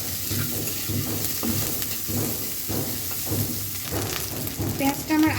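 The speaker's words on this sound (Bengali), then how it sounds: "প্যানে হচ্ছে তেলের মধ্যে অনেকগুলো পেঁয়াজ আর হচ্ছে অনেকগুলো মরিচ দিয়েছি, একটু ফ্রাই করে নেবো।" Many sliced onions and chilies fry in a small amount of oil in a pan, a steady close sizzle broken by repeated stirring scrapes of a utensil against the pan.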